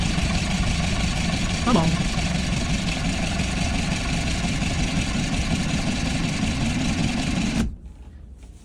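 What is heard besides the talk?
abandoned project truck engine cranking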